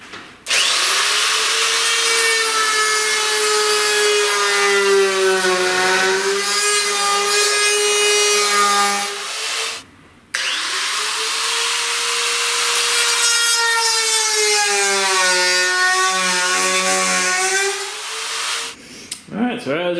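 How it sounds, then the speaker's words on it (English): A power grinder works on a car hood to enlarge the hood pin holes, a loud sustained whine in two long passes with a brief break between them, its pitch sliding as the disc loads and eases off. "we just fire up the grinder and try to get it aligned a little more"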